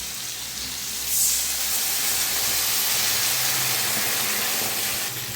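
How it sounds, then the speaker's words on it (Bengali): Water is poured into a hot pan of fried potatoes for aloo chorchori, setting off a loud, steady steam hiss that swells at first and holds for several seconds, with no talk. "আলুটা ভালো করে ভেজে নিয়েছি, এবার জল দিয়ে দেবো।"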